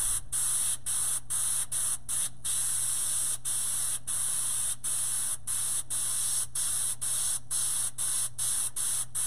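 A continuous airbrush hiss with a steady high spray tone, broken by brief regular pauses as the trigger is released, over a low hum, while painting a chrome chain.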